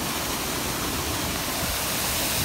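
Real water flows at a mini golf course with a steady, even rushing hiss, like a small waterfall, close and constant from start to finish.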